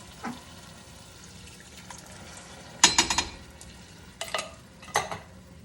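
Two cans of small diced tomatoes are tipped into a pot of tomato paste, heard as a few separate wet plops and splashes with quiet sizzling between them, close up and without talk.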